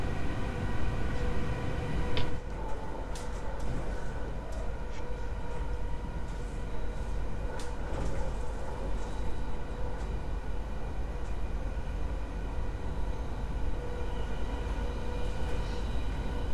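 A BR 111 electric locomotive rolls along in the Train Sim World 4 simulator on the Bahnland Bayern route. A steady rumble and drone continue throughout, with faint clicks and squeals scattered over it.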